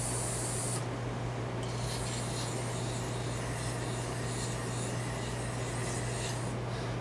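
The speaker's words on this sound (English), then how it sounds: "I spray it out with powder blast." Powder Blast cleaner sprayed into an AR-15 lower receiver, a loud, steady aerosol hiss that runs without a break under a constant low hum.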